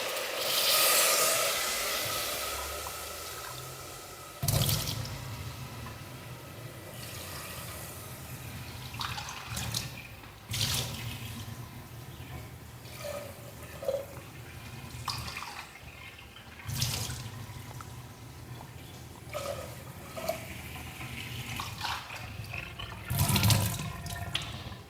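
Water is poured into a cooking pot for vegetable rice in several separate bursts, each a close splashing gush broken by short clinks and pauses.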